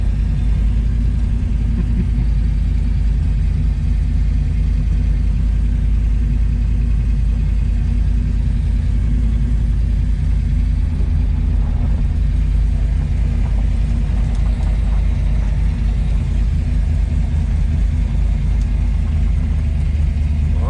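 A 1967 Ford Mustang GT with a 347 stroker V8 cruises along, its deep steady exhaust rumble droning loud and continuous from inside the car, with no talk over it.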